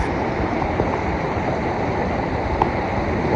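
A waterfall and flowing river stream near Kasarsai make a continuous broad rushing roar, steady and close, with nothing else standing out and no voices.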